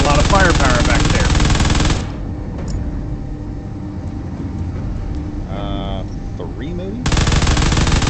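Loud video-game gunfire and missile launches roar in a dense barrage, drop out briefly under a quieter stretch with someone talking, then return at full intensity at the end.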